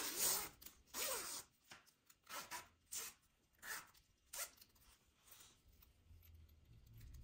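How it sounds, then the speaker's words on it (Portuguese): A 65 cm sewing zipper is pulled open in a series of short, raspy zipping strokes, close up, with brief pauses between pulls and no talking. "Neste zíper, eu vou abrir."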